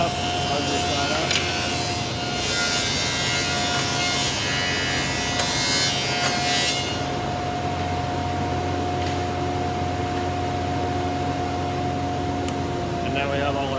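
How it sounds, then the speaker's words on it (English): Wood planer feeding boards for a key rack, a loud steady machine roar with a constant whine running throughout, while voices talk over it. "Ugly side up on the planer."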